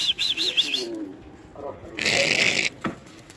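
Homing pigeons burst into flapping wing beats mixed with short bird calls, with a voice speaking nearby between the fluttering bursts.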